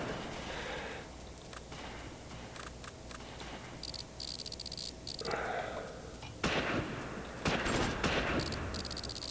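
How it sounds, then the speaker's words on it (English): Mortar and small-arms fire from the wartime strategy game Close Combat make a dense, chattering stream of crackling shots over a steady background hiss, and louder bursts crowd the later seconds. "their mortar started too"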